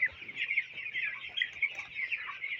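Broiler chickens on a small farm, a soft continuous chorus of overlapping clucks and murmurs from several birds close by, no one speaking.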